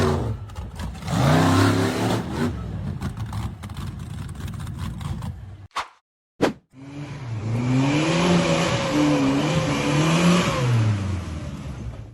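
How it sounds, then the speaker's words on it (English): A purple steel-frame off-road buggy roars as it accelerates up a steep rocky slope, its engine revving loud and close in rising and falling surges, with a brief drop-out midway before the throttle swells again. "The purple steel frame buggy cleared a dirt mound, then lifted its front end and accelerated up the steep, rocky slope."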